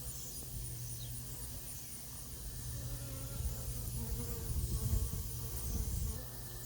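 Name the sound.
honeybee swarm in a peach tree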